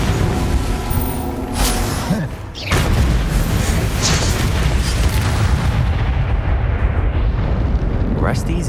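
Magic spell blasts in the video game Hogwarts Legacy: a dense, loud rumble of fire and explosive bursts, with a sharp boom near the middle and a voice calling out spell names.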